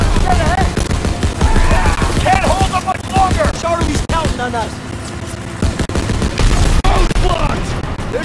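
A mounted machine gun fires in Call of Duty: WWII during a vehicle chase in Operation Cobra, loud rapid bursts layered with explosions, engine rumble and shouted voices over most of the stretch.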